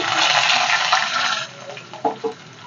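Cumin, onion, dried chilli, curry leaves and garlic fry in a pan for an old-style rasam, giving a steady broad hiss of sizzling oil that eases off halfway, followed by a couple of brief stirring scrapes.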